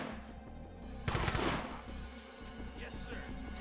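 Gunfire in the sci-fi strategy game UFO: Aftershock, a burst of rapid shots around the one-second mark over a steady game soundtrack, with clattering effects and quieter shots trailing after.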